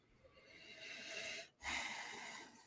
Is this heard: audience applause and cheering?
no